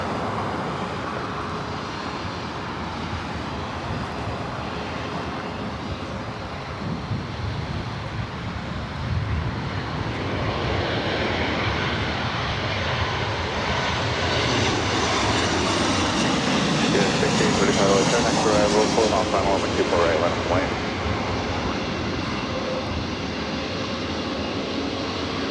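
Jet airliner engines at LAX airport, a broad roaring rumble that builds steadily and swells loudest near the end as an aircraft passes close by, with no speech over it.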